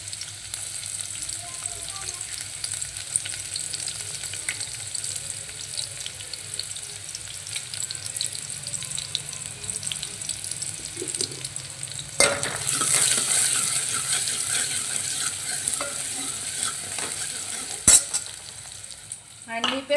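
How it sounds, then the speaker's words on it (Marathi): Chopped onion frying and being stirred in a pan for a spicy tarri-style gravy, a steady soft sizzle with scraping stirs, growing louder midway, with a brief clatter near the end. "कांदा एकदम मस्त असा लाल भाजून द्यायचा"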